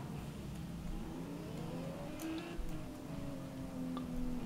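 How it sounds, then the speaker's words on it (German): A race car accelerates in the GTR2 racing game, its engine note rising steadily under a continuous, moderately quiet drone with faint ticking. "Oh, da kann ich wieder Gas geben hier."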